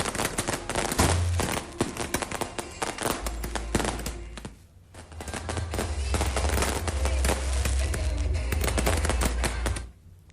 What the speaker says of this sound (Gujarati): જોખમી રીતે ફટાકડા ફોડવાનો આ વિડીયો છે